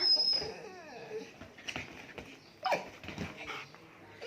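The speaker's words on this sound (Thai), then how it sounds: "จีซอนจีซอน เสียงดังไปแล้วลูกเสียงดังไป" A Siberian husky gives high, wavering whimpers and short whiny yips, close by in a quiet room, with small rustles between the cries.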